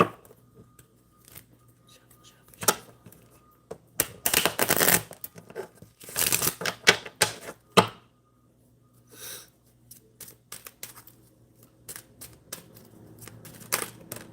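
Tarot cards shuffle in scattered riffles and snaps, busiest in the middle, with quiet stretches in between.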